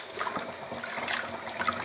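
Hot water poured into thick homebrew beer kit malt extract for a Woodfordes Sundew real ale, a steady close liquid pour with continuous splashing and trickling.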